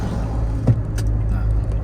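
A low, muffled Jeep Rubicon engine hum drones steadily, heard from inside the closed cabin.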